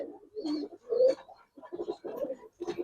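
Giribaz pigeons coo nearby in a steady series of short, throaty, burbling phrases separated by brief pauses, clear and moderately loud.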